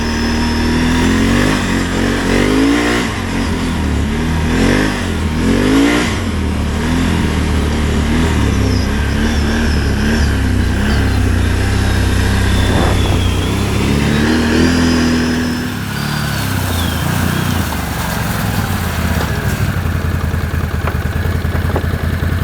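A 91-horsepower Can-Am Renegade XMR ATV engine revs loudly and close, climbing and falling in repeated surges, then settles into a smooth, steady run near the end.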